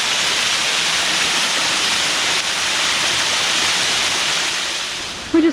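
Steady, loud roar of a waterfall heard close by on a river hike, a continuous broadband rush of falling water that fills the whole stretch before a brief sound at the end.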